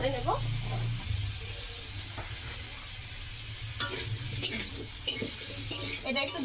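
Ground spice paste and chopped onion fry in a pan under a soft sizzle while a utensil stirs. Scraping strokes come in several short, uneven bursts.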